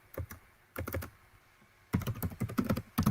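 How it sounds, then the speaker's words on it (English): Typing on a computer keyboard in short bursts of rapid clicking separated by brief pauses, close and clear with no speech over it. "Typing it in Swedish."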